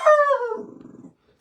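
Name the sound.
dog howling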